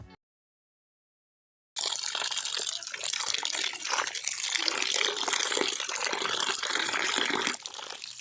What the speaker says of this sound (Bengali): এবার চিকেনটা ভালো করে ধুয়ে নেব।